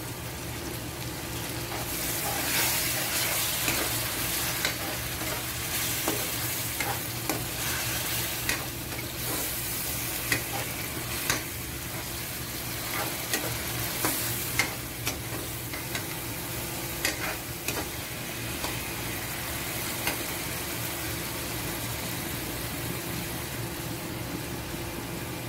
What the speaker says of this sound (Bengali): সুন্দরভাবে আমরা এগুলো একটু মিক্স করে নিব আমাদের পেঁয়াজ মরিচের সাথে।